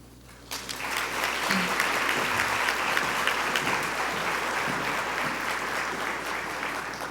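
Applause breaks out suddenly from an audience in a large room and continues steadily, a dense, moderately distant clapping over a low hum.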